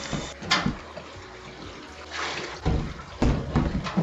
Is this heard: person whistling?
no